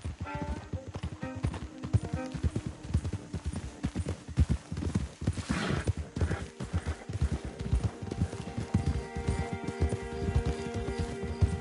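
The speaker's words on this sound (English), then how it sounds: "Don't want the horses clopping around outside the window." Horses' hooves clop in a steady, rapid rhythm on hard ground in a PS4 video game, loud and close, with faint game music and ambience underneath and no talking.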